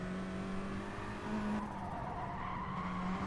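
Race car tires squeal and skid under late braking into a corkscrew corner in a racing video game, a steady continuous screech over engine drone, moderately loud and unbroken.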